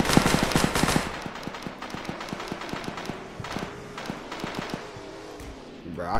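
Gunfire in a Roblox hood game, a rapid burst of loud close shots followed by a run of spaced single reports, with a voice speaking over them.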